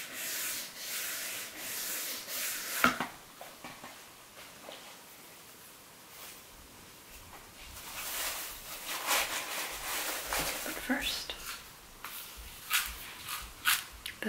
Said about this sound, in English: The sound of the cardboard too.